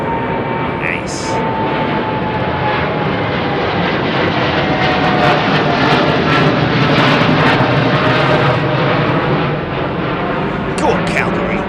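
A WestJet airliner flies past at London Heathrow Airport, a loud, close jet engine roar that swells in the middle and eases off near the end, with a few brief clicks and a voice talking over it.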